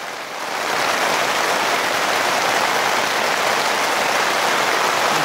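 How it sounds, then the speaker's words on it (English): Heavy, relentless rain pours steadily onto a yurt and the ground around it, a dense, unbroken roar of close drumming and splashing that swells slightly in the first second and then holds at full strength throughout. "This rain is relentless."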